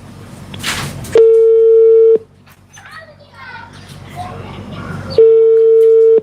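Telephone ringback tone during an outgoing call, two long steady tones about four seconds apart, loud and near, with a voice and background chatter between the rings.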